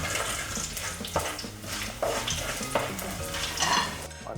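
Cardamom pods and a cinnamon stick sizzle in hot oil with fenugreek for a Sri Lankan polos ambula, a close, busy frying crackle broken by several sharp scraping stirs of a spoon against the pan.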